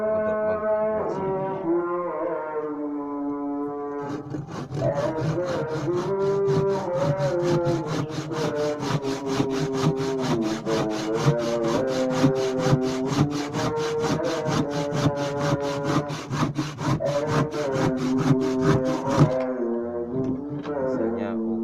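A freshly sharpened hand saw cuts through wood in fast, rhythmic rasping strokes, loud and close, over roughly fifteen seconds. Quieter scraping sounds come before and after the main run of strokes.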